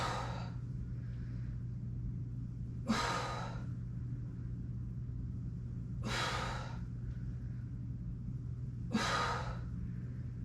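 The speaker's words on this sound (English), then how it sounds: "Breathing out while you're bringing your limbs back towards center." Exercise breathing, with four slow strong exhalations spaced about three seconds apart, close and breathy over a steady low hum.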